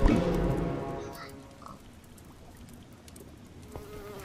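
A fly buzzing in the Minecraft Dungeons video game, a close tonal drone that fades after about a second, followed by quieter game sounds.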